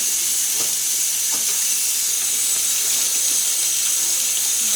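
Water runs steadily from a tap into a sink with a constant hiss and splash, a few faint clunks of fresh garden hot peppers being rinsed underneath.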